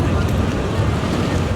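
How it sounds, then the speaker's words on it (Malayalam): A light, low-weight rubber boat bounces over the waves off Phuket, heard as a loud, continuous roar of rushing water and wind buffeting against the microphone, with no clear breaks. "റബ്ബർ വള്ളമായതിനാലും ഭാരം നന്നേ കുറവായതിനാലും ഓളത്തിനൊപ്പം ചാടിത്തുള്ളിക്കൊണ്ടാണ് പോക്ക്"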